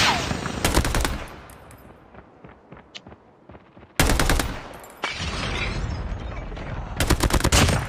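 Rapid automatic gunfire from the video game Call of Duty, with loud bursts of close shots and a quieter stretch of distant shooting between them.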